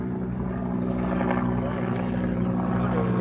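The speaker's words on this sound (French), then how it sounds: "Les gars, ils ont vraiment des hélicoptères tigres." Tiger attack helicopter rotor in flight, a steady low throbbing hum held without break at a moderate distance, fairly faint.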